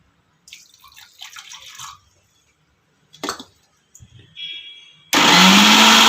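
After a few soft clinks and drips, a kitchen blender grinding beetroot with water starts abruptly and roars loud and steady at close range.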